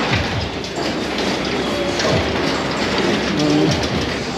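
Horror train ride rolling through a crowded festival ground at night, a continuous rumbling clatter with faint squeals over steady crowd noise, close and fairly loud throughout.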